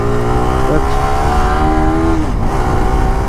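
A motorbike with a handlebar that pulls to one side runs up close with a steady, loud engine hum and its pitch shifts a few times. Faint voices sit in the background.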